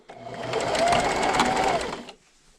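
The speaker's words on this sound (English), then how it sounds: "And then just keep sewing" A sewing machine runs a straight stitch at 2.5 length along a quarter-inch seam on a napkin, a close, steady whirring burst of about two seconds that stops abruptly.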